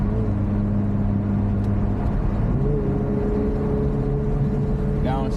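An Infiniti Q50S sport sedan, modified to about 500 horsepower, drones steadily while driving, with a low engine hum that briefly rises in pitch as it downshifts. A voice is faintly present beneath the engine.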